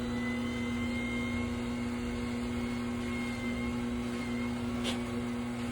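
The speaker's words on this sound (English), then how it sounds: "You kind of hear the motor struggle a little bit." Grizzly T32720 wet sharpening machine running with its motor under strain, a steady electric hum with a strong tonal whine and constant grinding rumble, loud and close throughout.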